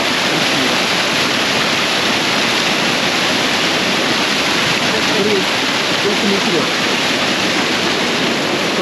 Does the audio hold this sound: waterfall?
yes